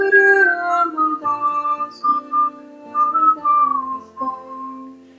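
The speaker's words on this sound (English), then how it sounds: "And begin to whistle along with the mantra." Whistling along with a meditation mantra, a clear melodic tune of sustained and gliding notes in short phrases with small breaks, close and prominent with no speech.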